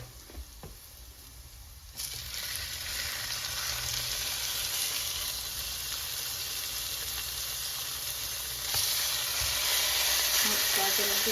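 Steaks sear in a very hot buttered skillet, two at a time, with a loud, steady sizzle that swells as they hit the pan and continues as a dense, crackling hiss.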